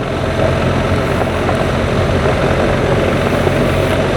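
A BMW R1300 GSA motorcycle engine runs under throttle while riding, producing a loud, steady, dense drone with strong wind rush throughout.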